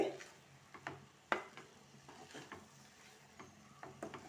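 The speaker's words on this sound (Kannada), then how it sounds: "ಫ್ರೆಂಡ್ಸ್ ಈಗ ಹೈ ಫ್ಲೇಮಲ್ಲಿ ಇಟ್ಕೊಂಡು ಸ್ವಲ್ಪ ಎಲ್ಲ ಮಿಕ್ಸ್ ಮಾಡ್ಕೊಳ್ಬೇಕಾಗ್ತದೆ" Palak paneer fried rice is stirred in a pan over a high flame, giving faint irregular scraping and clinking strokes against a soft sizzle, with no voices.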